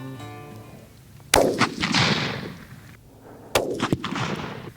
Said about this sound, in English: just wait till he turns broadside. And then when he does, go ahead and shoot him